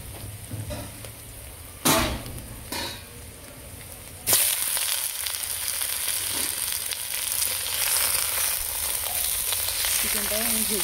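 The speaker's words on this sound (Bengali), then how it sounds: "চিকেনটাও আমি ভেজে নেব।" Chicken pieces go into a hot pan and burst into a loud, continuous sizzle. A few clatters and stirring knocks come first, then the frying hiss stays dense and close.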